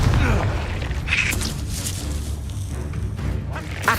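Explosive Confringo spell blast in the video game Hogwarts Legacy, a loud booming burst over dense game effects, with a person talking over it.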